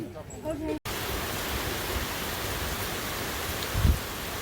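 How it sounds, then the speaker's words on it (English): Heavy rain pours in a video game as a dense, steady hiss. It starts abruptly after a brief quiet moment and continues loud and unbroken. "And now, just a bunch of much-needed rain."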